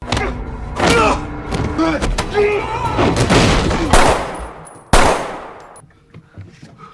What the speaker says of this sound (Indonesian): kematian Gaspar yang ditembak mati oleh si Ovi yang turun tepat waktu